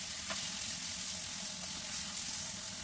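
Pork with dried mushrooms sizzles loudly and steadily in a pan after Chinese wine is added, giving a dense continuous hiss with no pauses.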